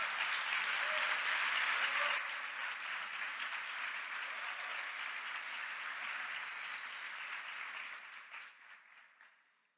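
A church congregation claps in a sustained round of applause that is strong at first, then gradually thins and fades out over nearly ten seconds.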